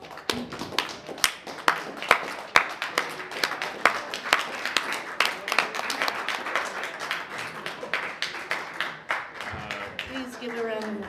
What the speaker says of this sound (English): would you please give a round of applause for Hope Hall